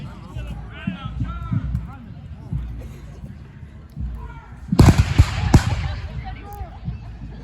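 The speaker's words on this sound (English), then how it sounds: "A nice volley from 4th Mass there." Reenactor infantry regiment firing a musket volley at an outdoor battle reenactment, a sudden cluster of loud overlapping cracks midway through, with a commentator talking before and around it and crowd noise underneath.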